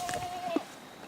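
A single short, wavering bleat from a tame female goat, close by and fairly soft, lasting under a second.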